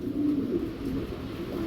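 Golden pigeons kept alongside Rampuri pigeons coo in a low, steady, continuous murmur close by, with no talking.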